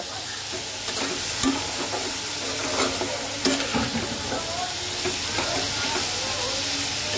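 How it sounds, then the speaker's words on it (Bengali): Kachki fish and vegetables being stir-fried over low heat with coriander powder in a pan, a steady sizzle with scraping stirs and a few clinks throughout, close and moderately loud, no talking. "মিক্স করে আমি কম আঁচে সবজিটাকে কষাবো"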